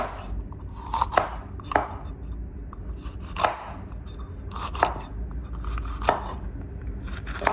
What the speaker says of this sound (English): Next, I'm gonna be cutting up my green pepper.